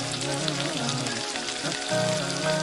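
Lemon slices dropped into hot oil with tamarind for Hyderabadi mutton yakhni pulao, giving a loud, continuous crackling sizzle that bubbles and spits close up the whole time.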